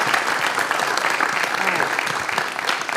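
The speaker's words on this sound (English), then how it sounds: "why don't we give them a big round of applause as they did an amazing, amazing job" Sustained applause from the audience at a Rotary Club speech competition, honouring the competitors, a steady dense wash of clapping with a voice briefly heard underneath.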